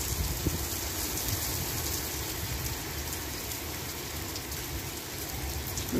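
The first monsoon rain of the season in India falls steadily outdoors among trees, a dense, even hiss of drops on surfaces with no pauses.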